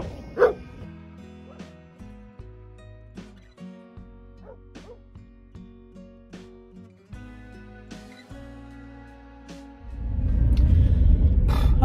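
Dogs bark and yip repeatedly outdoors, sharp close barks recurring every second or so over a low rumble, with a burst of loud broadband noise near the end.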